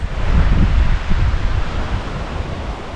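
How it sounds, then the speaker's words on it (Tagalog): Steady wash of wind and surf at a beach, sea waves with rustling leaves, a broad rushing noise with low rumble and gentle swells, no voices. "Nandyan din ang relaxing sound ng alon ng dagat at malamlam na pagaspas ng mga dahon."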